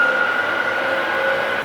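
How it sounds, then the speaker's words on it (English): A train at a London station terminal gives off a steady loud hum and mechanical drone with a sustained tonal whine, close by, easing off slightly at the very end. "That is my train."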